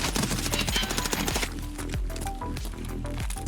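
Rapid SMG point-fire bursts in a video game, loud and close, a dense rattle of shots with gunfire continuing throughout.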